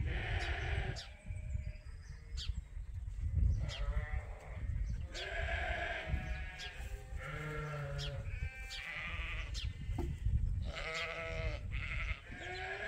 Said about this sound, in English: We've got a ewe by the scrub brush right now.